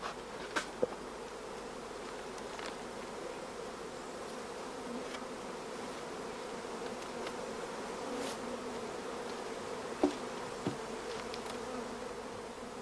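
Dense, steady buzzing of many honey bees crowded at a starter colony hive used for queen rearing, a continuous close hum with occasional individual bees passing near.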